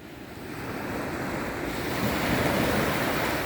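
Rough sea surf rolling onto a beach, with a loud continuous wash of breaking waves that swells as it nears and is buffeted by wind, with no voices.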